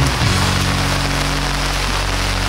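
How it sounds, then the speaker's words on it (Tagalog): Steady rain falls by a river in the Philippines, a dense, even hiss with a low rumbling bed throughout, no voices. "Pag umuulan talaga, solid, super solid talaga."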